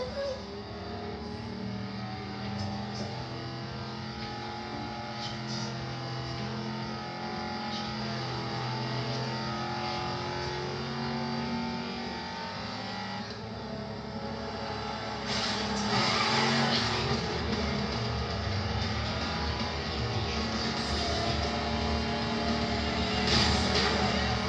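A race car accelerates hard along a straight in a speed-record comparison, its engine droning loud and steady and building in intensity, with the sound swelling further in the last seconds.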